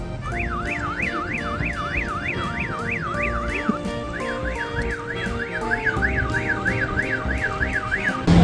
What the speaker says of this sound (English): We found out that this button sets the alarm off